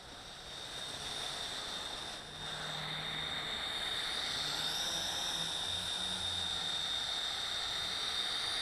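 A Helic Max Sky Hawkeye HM1315 quadcopter flies outdoors with a steady, high-pitched propeller whine, holding continuously at moderate distance with a slight shift in pitch partway through.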